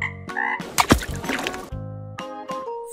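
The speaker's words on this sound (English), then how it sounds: "Frog." A frog croaks in a series of loud, close, resonant calls with short gaps between them, heard alone.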